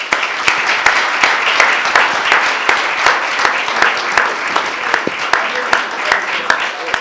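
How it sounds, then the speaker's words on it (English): Steady applause from a conference audience at a farming session, dense overlapping claps sustained throughout at a fairly loud, even level with no talk on top. "join with me in giving them a round of applause"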